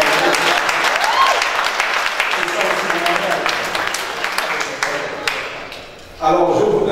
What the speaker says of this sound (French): Est-ce qu'on va applaudir, mesdames et messieurs?